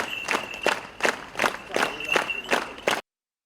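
Fellow artists applaud at a farewell for a singer, a slow series of about eight loud, separate bursts of clapping spaced roughly every half second before cutting off abruptly.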